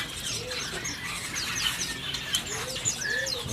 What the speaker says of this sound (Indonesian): untuk stok burung anis macan ini ya, ini udah pur total